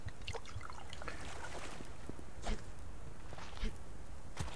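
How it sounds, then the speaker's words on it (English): Water trickling and pouring as a container is filled in the survival video game Subsistence, a steady faint liquid dribble with a few soft clicks and thumps over it, no talking. "I gotta get some water filled here too"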